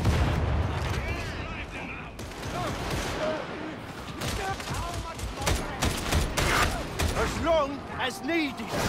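Gunfire in Warhammer 40,000: Darktide, a hard-kicking weapon firing repeated loud shots amid constant combat noise, with voices and chatter mixed in throughout.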